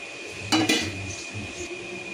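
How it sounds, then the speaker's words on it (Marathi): Boiled potatoes for batata vada are pressed with a masher in a pot, giving two quick metallic knocks close by, followed by quiet scraping. "मग ह्याला मॅशरने थोडे असं बारीक करायचं"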